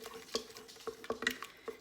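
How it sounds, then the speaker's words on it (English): Chicken and Lipton golden soup mix being stirred in an Instant Pot: light scraping and clinking of a utensil against the metal pot, a few distinct taps in an irregular rhythm, close and fairly quiet, with no talking. "we're just going to stir that around in there"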